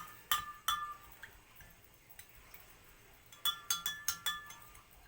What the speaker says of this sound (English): I will stir so that the salt will be dissolved in 450 ml of water.